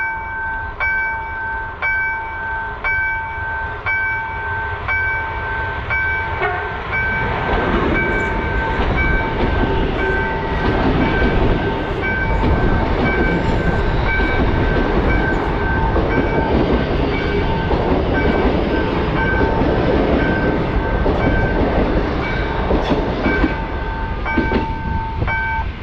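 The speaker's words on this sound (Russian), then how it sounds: "А вот, кстати, и поезд." A horn sounds in repeated tones as a train approaches in Argentina, then the loud rumbling clatter of rail cars rolls past continuously.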